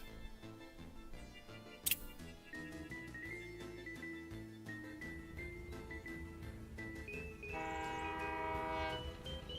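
Trains run along a railway in the Workers and Resources city-building game, with a steady rolling rumble, a short sharp click early on and a sustained horn-like tone near the end, all layered over continuous background music.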